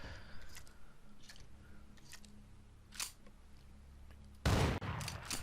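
A shotgun loaded with buckshot blasts a wooden door in the survival game Rust: faint clicks and small impacts, then one loud, broadband boom near the end with a short ringing tail.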